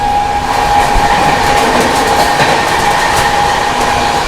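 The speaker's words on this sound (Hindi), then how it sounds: "बिहार संपर्क एंड ओवरटेक करने जा रही है new Delhi Hasanpur road special" Express train passing another train on an Indian railway line near Etawah Junction, a loud steady rumble of rolling wagons with rhythmic wheel clatter and a faint tonal whine throughout, no voices.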